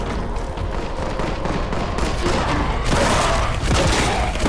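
A full-auto shotgun fires nonstop in the Warhammer 40K Boltgun video game, a dense, loud, continuous roar of blasts that sits up close for the whole stretch with no talking.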